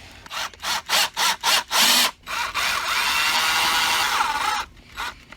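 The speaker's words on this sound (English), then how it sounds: "Speed things up with a little drill." A power drill driving screws to secure electrical outlets to the box whirs in six short bursts, then runs in one long steady spin before stopping, close and loud.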